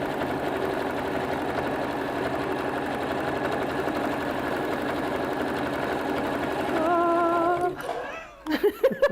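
A sewing machine stitching a bag seam with a steady, close mechanical whirr that runs for several seconds, speeds up briefly, then stops, followed by a few quick clicks and snips.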